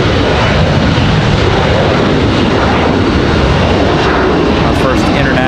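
An Air Canada Embraer E175 jet roars close and loud at a busy airport, a steady broadband engine rush filling the whole stretch, with a voice talking faintly over it.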